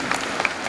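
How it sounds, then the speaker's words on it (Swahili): Brief burst of applause for the secretary at a Catholic parish lay council gathering, a dense patter of many hands clapping at moderate volume with no one speaking. "makofi kwa katibu."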